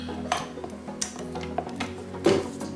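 Peanut butter shortbread dough with salt, vanilla, flour and cornstarch being mixed in a bowl: a low mechanical hum runs under sharp intermittent clinks and knocks, moderately near.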